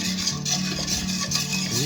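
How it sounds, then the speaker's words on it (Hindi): A spoon stirs thickening phirni in a pot, producing continuous scraping and swishing close up, steady and moderately loud throughout. "अब मुसलसल इसका मैं चम्मच हिलाती जाऊंगी"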